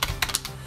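Quick bursts of keystrokes on a computer keyboard while editing a text file, about five close, crisp taps in under a second, with no voices.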